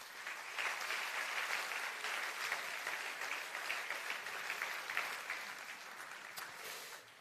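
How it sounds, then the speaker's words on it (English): Conference audience at a strategic forum opening day applauds continuously, a soft, even patter of many hands sustained throughout at moderate distance. "I think that deserves another round of applause"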